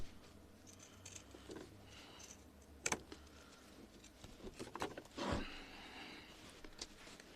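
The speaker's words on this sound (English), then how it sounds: "So now I'm going to get my pinking shears and you've seen me do this before. Cut the corners off." Pinking shears snip the corners off fabric from an upcycled skirt being turned into a bag, heard as a few quiet, separate cutting clicks and crunches against a soft, low room background.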